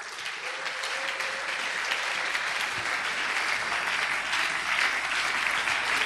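A church congregation applauding during a French-language service, steady dense clapping that fills the space, loud and sustained for the whole stretch with a faint voice underneath.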